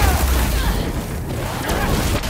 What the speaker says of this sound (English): Someone's playing with fireworks?